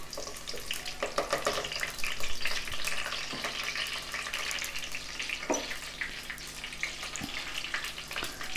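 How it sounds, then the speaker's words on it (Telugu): Green chillies fry in a hot clay pot for a Telangana-style chicken fry, giving a crackling, spattering sizzle with occasional sharper pops and scrapes, close by and without speech. "పచ్చిమిర్చి వేసుకుందాం."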